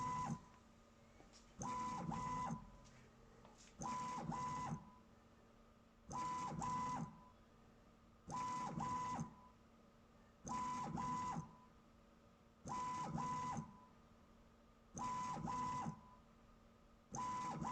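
A CNC milling machine, model MM25L/MM32L, jogs its Z-axis during a repeatability test: eight short whirring motor bursts of about a second each, evenly spaced roughly two seconds apart, with a faint hum between them.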